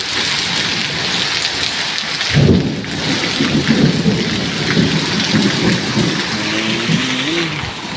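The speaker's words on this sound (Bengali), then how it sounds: "কাছ থেকে অনেক বজ্রপাত করতেছে" Heavy rain pours steadily on surfaces during a thunderstorm, with a loud close thunder crack breaking in a few seconds in and low rumbling continuing beneath the downpour.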